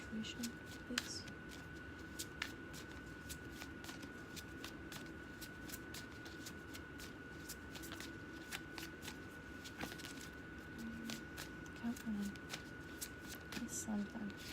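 Tarot cards being shuffled and handled, with soft repeated riffles and flicks scattered through a quiet room under a low steady hum, while a person talks softly at times.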